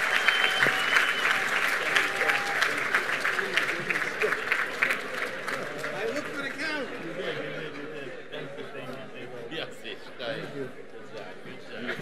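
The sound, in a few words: audience applause at convention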